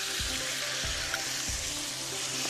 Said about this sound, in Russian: И все это нам нужно обжарить еще несколько минут, пока томатная паста не станет однородной